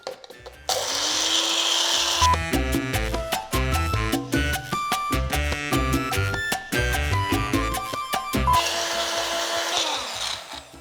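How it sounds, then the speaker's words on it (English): Dried chili peppers are ground in a kitchen grinder: a loud whirring burst, then a run of choppy on-off pulses, then another sustained whir, with no voice over it. "So I'm gonna grind this up like so."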